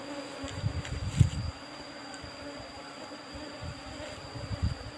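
Apis cerana honey bees buzz around a comb being moved into a cultivation hive box, a continuous droning hum with a few louder swells as bees pass near, over a faint steady whine.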